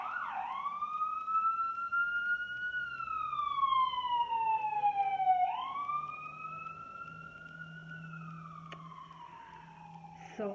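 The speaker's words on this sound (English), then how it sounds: "I hear that sirens all day long" An emergency siren wails in long rising and falling sweeps, fairly loud, over a low traffic hum.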